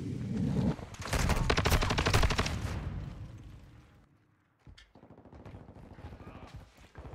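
Rapid multiplayer gunfire from Call of Duty: Modern Warfare 2 rattles in dense automatic bursts, loud and close, fading away and then returning as quieter shots, with a player talking over the action.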